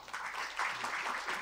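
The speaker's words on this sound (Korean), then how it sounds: "박수 부탁드립니다." A seminar audience gives a short burst of applause for a guest professor, a soft continuous patter of clapping heard at a moderate distance for just over a second.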